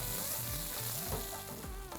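Chopped onions, mustard seeds and green chillies tempering in hot oil make a steady, close, loud sizzle and crackle with faint stirring, heard alone for the whole two seconds.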